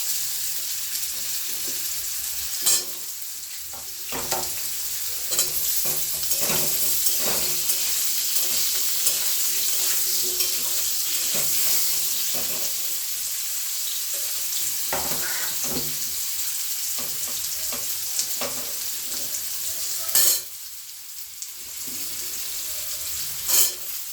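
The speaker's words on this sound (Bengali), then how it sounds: "আলু আর গাজর কেটে রেখেছিলাম সেটা ভাজতে বসে দিচ্ছি" Diced potatoes and carrots frying in oil for a paneer posto dish, a steady close sizzle with scattered stirring scrapes and clinks throughout.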